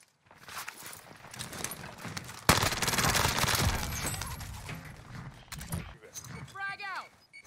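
Rapid automatic gunfire erupts in Call of Duty Warzone during a Cold War AUG match, with sustained bursts, scattered shots and footsteps, and a brief pitched game effect at the end.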